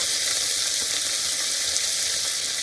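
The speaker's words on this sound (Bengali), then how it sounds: "আদা কাঁচা লঙ্কাটাকে আমি খুব ভালোভাবে তেলের সঙ্গে নেড়ে নেব" Asafoetida, ginger and green chili paste sizzle in hot oil in an unbroken, close crackling hiss, with faint stirring beneath the frying.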